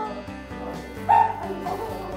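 A small dog at a grooming and self-wash pet shop yips and whimpers close by, with one sharper high whine in the middle over a steady low background.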